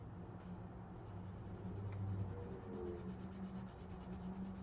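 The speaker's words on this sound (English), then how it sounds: "But I am swatching them on white tish paper." Faber-Castell metallic colored pencil swatched on white paper, giving a faint, steady soft scratching of the lead across the sheet, with no talking.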